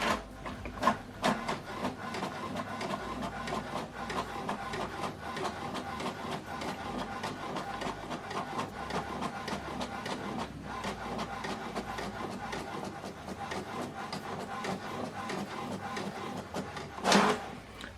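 HP Deskjet printer running off a document, a steady mechanical whirr with rubbing and shuffling of paper feed throughout, a brief louder burst near the end, no talking.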